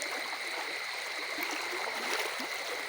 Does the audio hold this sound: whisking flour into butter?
no